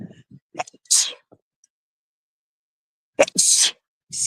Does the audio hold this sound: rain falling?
no